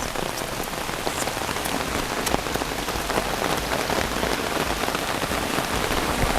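Rain falls steadily near a lake, a close, even hiss of drops striking surfaces with a few sharper splashes standing out, no voices over it.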